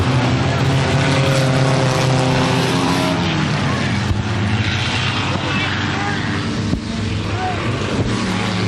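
Pro 4 racing trucks at Humberstone Speedway roar around the track with a loud, continuous engine drone, holding steady with slight rises and dips as they pass, while a commentator talks over it.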